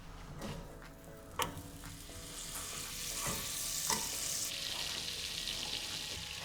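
Butter melting in a hot pan for a beer cheese roux, a continuous close sizzle with intermittent scraping and tapping from stirring, the frying hiss intensifying toward the end.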